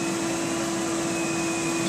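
A Lindhaus central vacuum power nozzle running, giving a steady, loud motor whine with a strong fixed hum and a dense airy rush, unbroken and close throughout with no voices.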